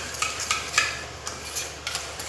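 Two spoonfuls of sour yogurt are beaten with a spoon in a bowl, giving quick rhythmic scraping clinks close by with no talk.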